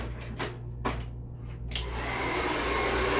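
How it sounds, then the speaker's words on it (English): A blow dryer runs steadily while drying hair during a blowout, a loud continuous whooshing roar with a few brief shifts in airflow in the first seconds, then settling into an even, unbroken drone. "And I will just let the blow dryer dry."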